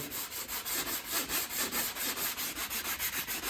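Steady back-and-forth sanding over dried joint compound on a drywall patch, a rhythmic scratchy rasp repeating about four strokes per second, close and continuous with no talking.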